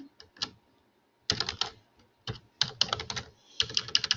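Computer keyboard keys being typed in short bursts of quick, close clicks separated by brief pauses, with no voices.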